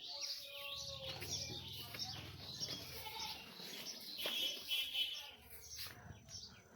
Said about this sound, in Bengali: এখানে এর ভেতরে হাঁসের বাচ্চা রাখছি 10টা